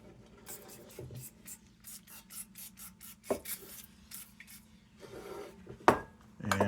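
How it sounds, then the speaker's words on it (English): Finish being rubbed by hand into a vintage Dietz No. 2 blizzard lantern, heard as soft scattered rasping strokes and light metallic clinks, close and fairly quiet, with a sharper knock near the end. "we're going to rub all this stuff in."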